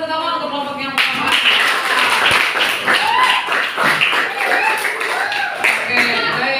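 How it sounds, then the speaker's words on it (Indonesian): A classroom of students applauds a group's presentation, a burst of dense clapping starting about a second in and continuing steadily to the end, loud and close, mixed with voices. "kita kasih tepuk tangan untuk kelompok yang pertama"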